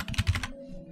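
Rapid keystrokes on a computer keyboard, about half a dozen quick close taps in a burst that stops halfway through, followed by quiet room tone.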